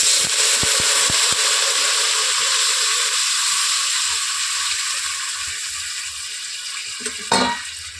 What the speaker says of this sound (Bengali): এবার জল দিয়ে দেব পরিমাণ মতো জল দিয়ে দিচ্ছি।